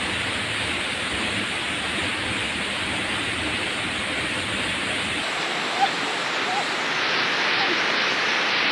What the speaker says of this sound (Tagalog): Naglaho Falls.